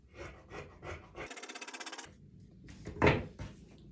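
Scissors cutting through four stacked layers of viscose fabric for a long dress, a run of rapid rhythmic snipping and rustling between soft handling sounds, close and fairly clear with no talking.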